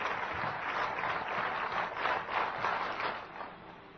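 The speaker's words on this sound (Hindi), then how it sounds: "एक बार तालियों के साथ आप उनका स्वागत और अभिनंदन करें" An audience at a government event applauds to welcome the chief minister, a sustained, fairly distant roll of many hands clapping, steady for several seconds without speech.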